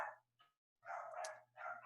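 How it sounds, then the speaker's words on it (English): Dogs bark indoors in three short, sharp bursts separated by brief silences, moderately loud against a faint low hum. "sorry, I've got some dogs"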